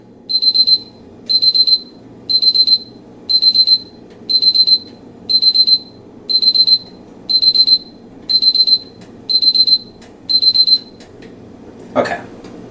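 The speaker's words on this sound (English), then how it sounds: "pardon the beeping while I adjust the temperature" A deep-frying thermometer probe's temperature alarm beeps in eleven regular bursts of rapid high chirps, loud and close, with a faint kitchen background hum and a brief clatter at the end.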